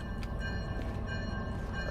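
An Alco diesel locomotive in the train game Derail Valley, a continuous low engine rumble with a faint steady whine over it and no talk.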